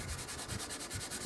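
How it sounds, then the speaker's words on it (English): A Brillo scrub pad rubs lightly over a painted surface in quick, even back-and-forth strokes, a close, dry, rhythmic scratching much like gentle sanding. "what I'm using is the Brillo pad scrub of these pads just to smooth it off"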